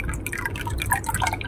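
Evaporated milk is poured into a bowl with beaten egg, giving a brief, close, continuous liquid trickle and splash with no talking.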